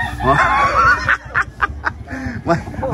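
A chicken crows and clucks nearby in an outdoor setting, with a drawn-out call followed by a few short, choppy clucks, and someone talks at the same time.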